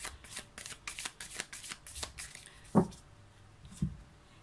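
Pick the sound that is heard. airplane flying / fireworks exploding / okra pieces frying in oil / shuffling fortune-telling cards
shuffling fortune-telling cards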